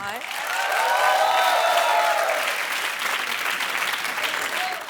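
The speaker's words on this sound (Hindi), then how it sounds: "एक बार जोरदार तालियां हो जाए अजहर की पूरी टीम के लिए" Studio audience on a comedy talk show bursts into loud, sustained applause with some cheering, holding steady across the whole stretch while voices mix into the crowd noise.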